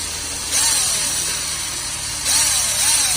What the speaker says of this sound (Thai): ทำการเจาะรูครับผม